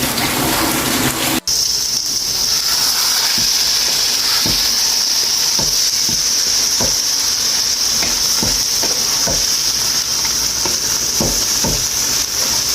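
Chicken sizzles loudly and continuously in a hot pan, with a steady hiss and occasional soft knocks of stirring.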